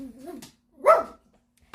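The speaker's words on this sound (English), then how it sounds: "Okay, I'm gonna let him out so he can bark." A dog barks once, a short loud burst close by, after a stretch of indoor speech, with a faint yip at the very end.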